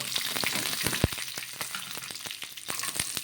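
Peanuts and green chillies fry in hot oil, giving a steady close crackling sizzle with scattered sharp pops and a few louder spits, no voices present.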